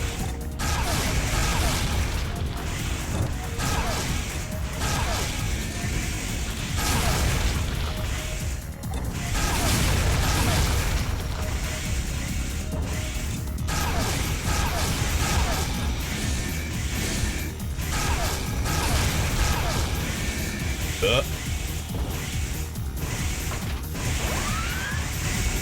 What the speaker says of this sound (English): Here's a grenade cannon.